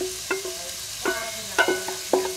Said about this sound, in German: Dann schmoren wir hier drin die Zwiebeln mal kurz an